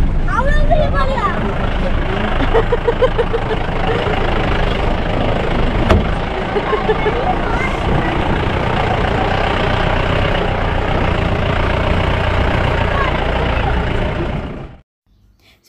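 A jeep's engine drones loud and steady on an off-road safari ride in Thekkady, with heavy low rumble and rattling all the way through, then cuts out sharply at the end. People talk over it.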